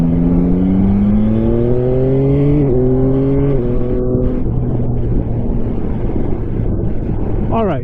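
A 2024 Yamaha Tracer 9GT+ motorcycle pulls away and accelerates through several gear changes, its engine note climbing and dropping in steps, with steady wind rush throughout.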